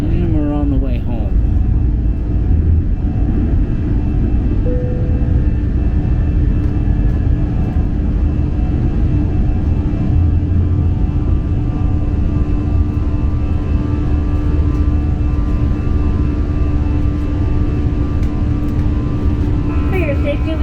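Passenger airliner taking off on a return flight from Varadero, Cuba, heard from inside the cabin: a loud, steady engine roar and low rumble that holds for the whole stretch without letting up.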